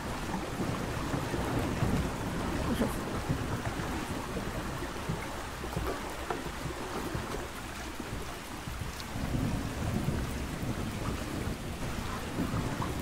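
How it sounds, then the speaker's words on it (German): Heavy rain hisses continuously during a stormy spell in the survival game Ark Survival Ascended, with low thunder rumbling underneath; a constant, fairly loud downpour with no voices. "Es regnet."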